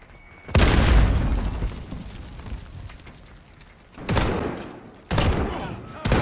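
Grenade explosions in Call of Duty multiplayer land as a loud, close boom that rumbles and decays over several seconds, followed by two more sharp blasts in quick succession.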